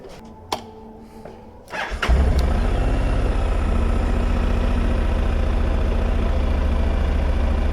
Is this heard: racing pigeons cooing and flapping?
no